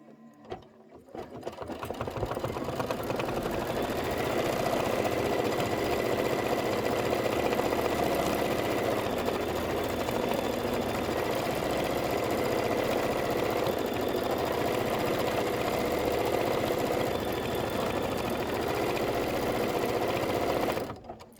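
A Kimberbell embroidery machine stitches a dress form and cross-stitch heart design, its steady mechanical whir and rapid needle patter running loud and continuous for about twenty seconds before stopping abruptly.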